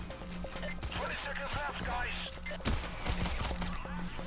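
Rapid bursts of gunfire from the heist shooter game Payday: The Heist crackle in repeated volleys over game music, fairly loud and continuous, with occasional voices talking underneath.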